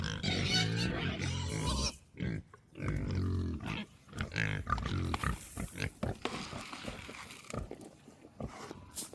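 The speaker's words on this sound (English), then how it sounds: "All right, pigs are fed." Farm pigs at feeding time, loud overlapping grunts, squeals and oinks in bursts close by, with pauses between outbursts.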